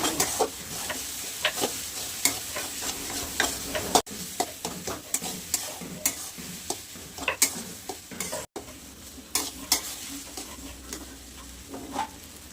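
Eggplant bharit sautéing in a pan, village-style, with a steady sizzle and repeated scraping stirs of a spoon against the pan, close and fairly loud with no voices.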